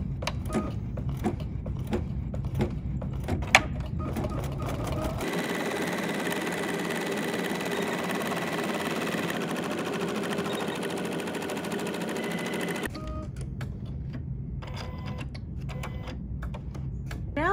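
Embroidery machine running a basting stitch, a steady fast mechanical whir with rapid needle ticking for several seconds, starting and stopping abruptly, with quieter handling clicks before and after.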